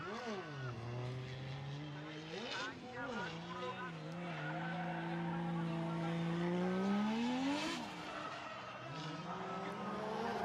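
A drift race car at Ebisu Circuit West Course in Fukushima slides through a qualifying run, its tires squealing loudly in long, wavering howls as the engine revs rise and fall. Commentators talk over the skid.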